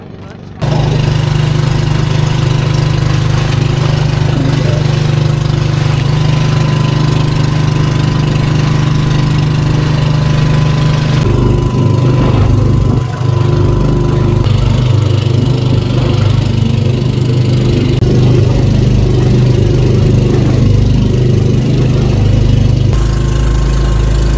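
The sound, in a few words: boat engine running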